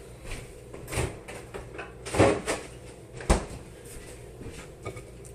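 A refrigerator door opens with a soft rustle and then shuts with a solid thud, plus some light handling noises nearby.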